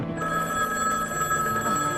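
An old-fashioned telephone bell rings in a home, a loud, steady metallic trill that carries on unbroken for the whole two seconds.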